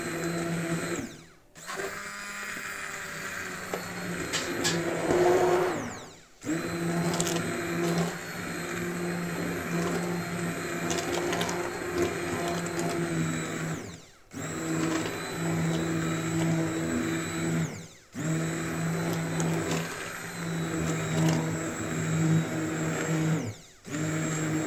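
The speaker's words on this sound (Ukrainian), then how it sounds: "перебиваємо блендером." A blender purees boiled apples for apple-elderberry jam, roaring loudly in several long bursts separated by brief pauses, with no talk over it.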